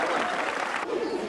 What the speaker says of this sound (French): On l'applaudit très fort, Alex